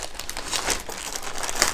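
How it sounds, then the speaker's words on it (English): A thin plastic bag from a diamond painting kit unboxing is crumpled close up, giving a continuous, busy crinkling and rustling for just under two seconds with no talking. "let's get rid of this nasty plastic bag."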